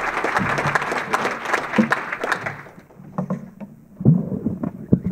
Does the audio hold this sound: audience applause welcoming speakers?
yes